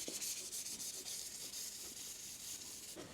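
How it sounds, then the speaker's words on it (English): Steady, quiet sanding across a cured epoxy resin table top, a continuous hissing scrub with faint rhythmic passes and no voices. "the resin has cured sufficiently well to be able to sand it off"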